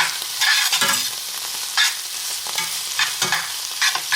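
Food sizzles loudly in a frying pan for chicken patty melts while a utensil stirs it, scraping strokes recurring roughly every second over steady frying hiss, close and without talk.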